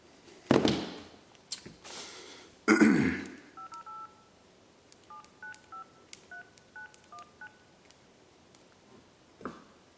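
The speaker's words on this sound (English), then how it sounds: "I'm going to go call them right now and put you on speaker." A phone on speaker dials out, a series of short touch-tone beeps in quick groups after a few louder clunks and handling noises, fairly quiet and clear.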